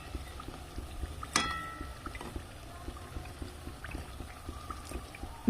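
Rose pitha fries in oil over medium heat with a quiet, continuous bubbling sizzle, broken once by a bright metallic clink and a few soft taps.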